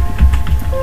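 Typing on a computer keyboard while saving an HTML image file: a steady run of close, soft key clicks with a low hum underneath, no voices.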